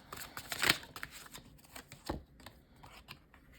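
Tarot cards being shuffled by hand: a few quick riffling and sliding bursts, close and crisp, with a sharper flurry early on and softer shuffles and taps between quiet gaps.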